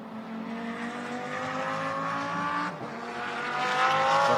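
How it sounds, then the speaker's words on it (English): Audi R8 LMS GT3 race car engine during a GT Masters Asia race in Malaysia, a loud sustained high-revving drone that climbs in pitch, dips briefly at a gear change, then climbs again, heard alone. "we're looking now at the 999 Audi R8 LMS GT3 car at the other end of the field, sitting pretty in first place"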